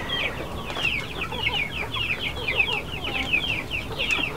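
Breeding hens of the AKA chicken breed, kept free-range, cluck repeatedly in a steady rhythm from a flock close by, with no talk over them.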